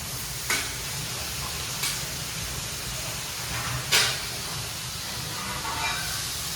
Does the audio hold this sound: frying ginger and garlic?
yes